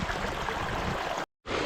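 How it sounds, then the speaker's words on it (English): Water rushes and burbles over rocks in a steady, close stream in Kalbarri, Western Australia, broken by a brief moment of silence before the flow resumes. "the sound of running water is just a beautiful thing in itself."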